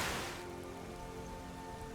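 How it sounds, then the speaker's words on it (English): A sudden video-game rain downpour, set off by clashing weather and storm mods, arrives as a loud burst that settles into a steady, dense hiss of rain, with no voices. "that's resulting in this sort of instant downpour whenever the weather changes"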